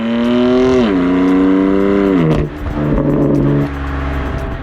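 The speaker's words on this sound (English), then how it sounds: "It also comes with the M Performance titanium exhaust with carbon tips." A 2020 BMW M4 Cabriolet's engine revs up and drops back through its M Performance titanium sport exhaust, the deep note rising and falling in pitch, loud and close, then settling into a rumbling idle.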